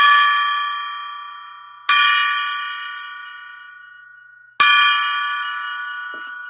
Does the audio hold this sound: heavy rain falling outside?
no